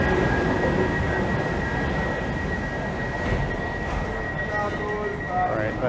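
A Brussels metro train runs with a loud, steady rumble and a sustained high whine throughout, heard from on board.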